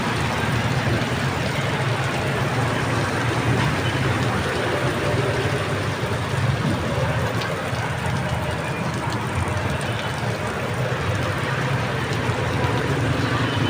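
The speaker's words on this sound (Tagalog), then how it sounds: "Sobrang lakas na ulan, no? Hangin, sabay." Heavy rain driven by strong wind pours in front of a market, a loud, unbroken roar of noise that holds steady throughout.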